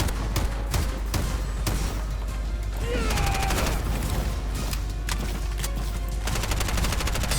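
Rapid, dense video game gunfire from Bright Memory: Infinite crackles almost nonstop, with bursts of automatic shots layered over a loud, constant low rumble.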